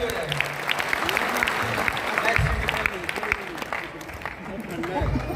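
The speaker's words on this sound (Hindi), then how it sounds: "तो एक बार डोमन जी के लिए जोरदार ताली हो जाए।" Loud, sustained audience applause at a hotel event show in Raipur, many hands clapping steadily for several seconds with brief low thumps and a faint crowd murmur.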